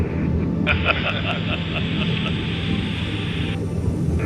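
Airplane flying during an aviation personnel training session, a steady loud engine drone with a sustained high whine across most of the clip, no talk.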